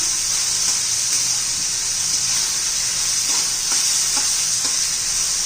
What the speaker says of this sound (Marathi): त्यासाठी मी गवार आणि वाटाणा स्वच्छ धुवून तेलामध्ये परतून घेत आहे